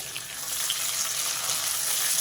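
Mint leaves frying in a pan with onions and ginger make a steady, close sizzle that holds at an even level throughout with no talk.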